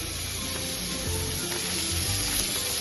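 Coriander and garlic sizzle in hot oil in an Assamese home kitchen, a steady close hiss with small crackles and occasional clinks, with no talking.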